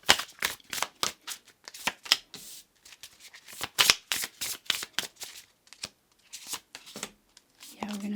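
Tarot cards being handled and shuffled close up: quick, irregular riffling and snapping flicks in rapid bursts, with short pauses between, no talk over them.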